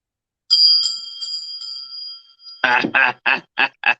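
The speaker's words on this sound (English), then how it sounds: "Oh, he wants you to ring the bell." Bicycle-style bell rung several times in quick dings with a lingering ring, followed by a few short bursts of speech.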